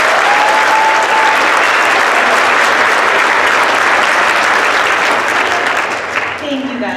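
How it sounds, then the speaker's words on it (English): Loud, sustained applause from a large crowd at an 8th grade orientation, clapping steadily throughout before tapering slightly at the end. "Can we give them another round of applause?"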